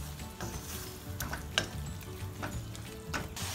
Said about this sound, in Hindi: अब इसको हम धीरे धीरे आंच पे पकाना शुरू करेंगे।